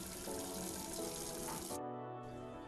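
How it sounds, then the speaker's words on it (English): Water runs steadily from a tap in a full, close hiss that cuts off abruptly partway through, leaving a faint lingering trickle. "ready to use when you turn on the tap"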